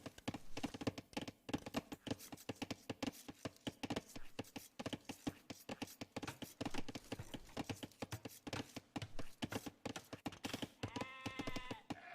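Sheep bleat in a medieval real-time strategy match on a map with long wall lines, with short game sound effects coming in a steady clicking, tapping rhythm and a clearer bleat near the end.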